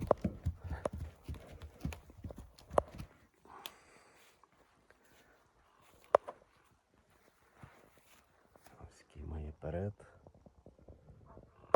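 Mares' hooves clop irregularly on hard ground nearby, with occasional sharp knocks, while someone talks over parts of it.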